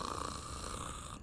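A sleeping person gives one continuous, loud rattling snore, close and with no other sound.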